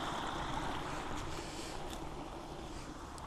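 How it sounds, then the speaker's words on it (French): A countryside stream flows in a wild, quiet spot, a faint, steady watery rush with no talk. "Donc là on va passer par-dessus le ruisseau."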